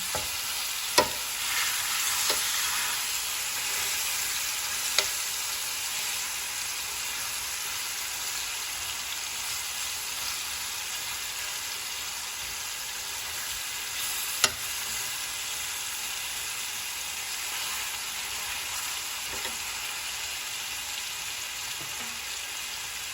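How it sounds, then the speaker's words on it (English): Chicken pieces for Jamaican curry chicken searing in a pan, a steady bright hiss of sizzling fat with occasional sharp pops, continuous and fairly close with no talk. "I'm going to let it stay for about 1 or 2 minutes, and so it can sear it"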